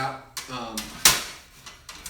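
Metal doors and handles of a live animal trap clank and rattle as they are flipped and pushed up, a few sharp close clacks with one louder bang, mixed with brief speech.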